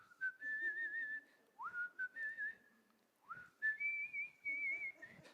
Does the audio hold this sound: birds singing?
no